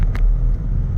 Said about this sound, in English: You're gonna hear some road noise with these tires.